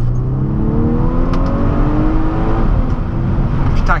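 A Volkswagen Golf 6 R with a 270 hp engine accelerating hard, its loud, steady engine note climbing continuously through the revs from inside the car, with no talk.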